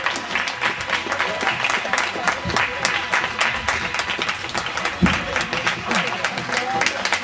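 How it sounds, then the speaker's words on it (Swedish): An audience at a dance championship event gives loud, sustained applause, dense overlapping claps with crowd noise and some voices mixed in, continuing steadily for several seconds. "Jag tycker också att vi ger en stor applåd till Kason som har arrangerat det här."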